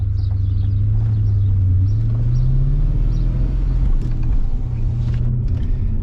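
An MG ZT 260 with a V8 engine driven on the road, its deep steady engine rumble close and loud throughout, the drone rising slightly in pitch midway, with no talk.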